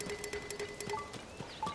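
Horse hooves clip-clop at a steady walking rhythm in Zelda: Tears of the Kingdom, soft and moderately close, with faint game chimes and a brief whinny-like tone near the end; no talking.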